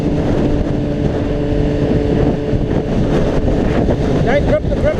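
Steady buffeting wind roar while riding a Honda CBR600RR motorcycle in windy conditions, loud and continuous with engine drone beneath, and a rider talking over it.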